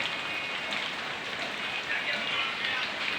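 Steady rain falls at a village house, a dense, even hiss of drops hitting surfaces that holds at constant loudness throughout, with no talk.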